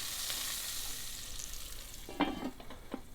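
Onions cooking in a cocotte pot, a soft steady sizzle with a few louder stirring clatters near the end, close and without voices.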